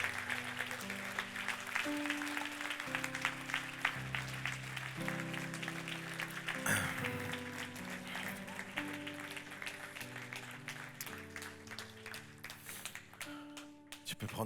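A church congregation applauds, a sustained wash of clapping lasting many seconds over soft instrumental music playing underneath, fading slightly at the end.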